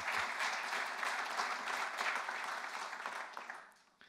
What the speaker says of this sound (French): Et vous pouvez l'applaudir parce que son élection est assez récente.